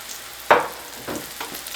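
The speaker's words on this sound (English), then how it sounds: "So you want to sear this." Beef chuck roast dredged in flour hits a hot cast iron skillet over medium heat with a sudden loud sizzle, then settles into quieter, intermittent crackling and spitting.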